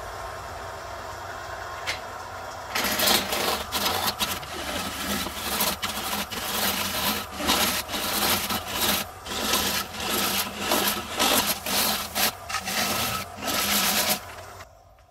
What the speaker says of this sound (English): Now just for the sake of variety, I'm going to use a scraper down there.